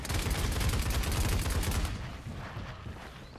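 Sustained rapid automatic fire from a big gun in the Paladins video game. The shots come loud and dense for nearly two seconds, then fade into a softer, rumbling tail.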